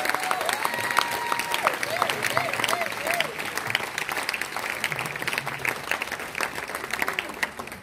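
Crowd applause with scattered cheers, a dense, continuous patter of clapping that holds steady throughout, with a warbling voice-like tone rising over it early on.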